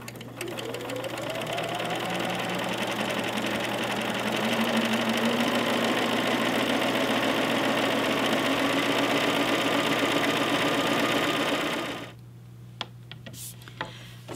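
A sewing machine stitches down the edges of a fabric face mask, running in a steady, continuous whir for about twelve seconds before stopping abruptly, followed by a few faint clicks.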